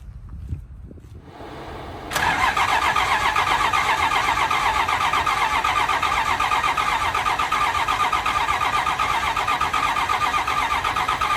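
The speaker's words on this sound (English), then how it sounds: "So we'll do a cold start on it." Cummins diesel in a Chevy Squarebody truck cold-starting: after a brief quiet moment it cranks and fires, then settles into a loud, steady, close idle.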